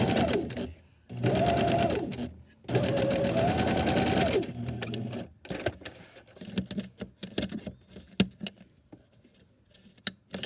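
A sewing machine stitches a rolled hem on ruffle fabric in two steady whirring bursts, then stops, leaving only scattered handling clicks and rustles.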